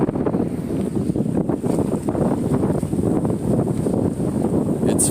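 Strong wind gusts of about 40 miles per hour buffet a sailboat at sea before dawn, a continuous rough roar of wind noise on the microphone with pulsing surges and no speech.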